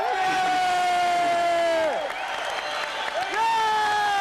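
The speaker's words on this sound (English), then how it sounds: "Hopefully the crowd noise is lower." Cheering and applause rise from the crowd at a live concert, a steady wash of noise with shouts and whoops that carries under a sustained guitar tone throughout.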